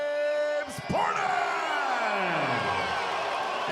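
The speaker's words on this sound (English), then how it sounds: "But a fired up crowd, I love it." A fired-up crowd at a professional boxing debut in Fresno, California roars with yells, whoops and cheering that swell and hold loudly throughout, one shrill whistle-like cry sliding downward through the noise.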